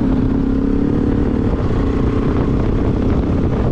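A Bajaj Pulsar RS 200 BS4 motorcycle fitted with an Akrapovic aftermarket exhaust runs close by, giving a loud, steady, throbbing engine note with a slightly popping, crackling edge and no talk over it.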